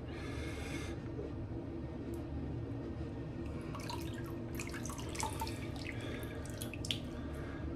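A tap runs water onto a shaving brush during a straight razor shave, a steady close splashing stream with irregular drips and spatters.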